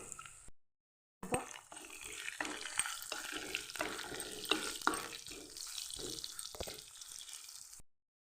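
Garlic cloves fry with cumin seeds in a pan for gongura chutney, giving a close, continuous sizzle with stirring scrapes and a brief silent break near the start.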